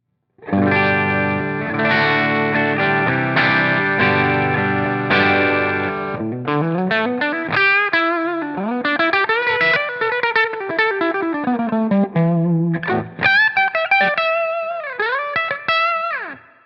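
Electric guitar with chorus and distortion effects strums sustained open chords, then moves into single-note runs and slides up and down the neck, loud and close.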